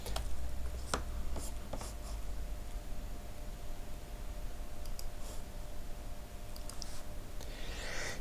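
Pen or marker strokes on a writing surface while sketching a straight tangent line during a viscosity tutorial, heard as faint scratchy writing and sparse clicks over steady low background hiss, with no talking.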